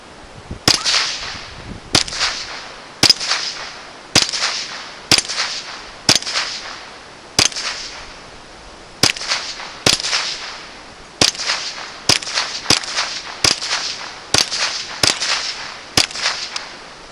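A rifle fires Federal Lightning rounds in seventeen sharp, loud shots, each spaced a second or so apart with a short ringing decay, and the pace quickens slightly in the later shots.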